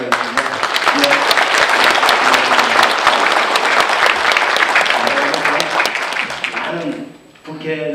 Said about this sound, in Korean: 우리 정양석 국회의원님 여러분 박수를 좀 환영해 주시기 바라겠습니다